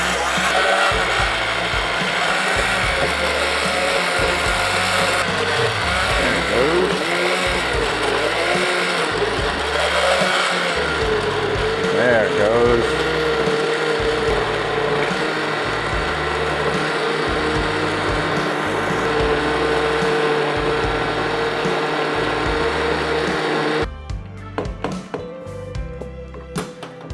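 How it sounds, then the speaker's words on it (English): A blender whirs steadily for about 24 seconds, blending mango habanero hot sauce with half a cup of Keller Haze beer, a loud continuous grinding motor drone with shifting pitch as the contents churn, then cutting off abruptly. "And then we blend."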